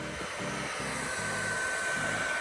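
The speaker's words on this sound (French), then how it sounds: "elle est en train de sécher au sèche-cheveux le rag" A hair dryer runs steadily on a garden render coat, a continuous loud airy whoosh with a motor whine, its pitch wavering in low pulses throughout, with no talk.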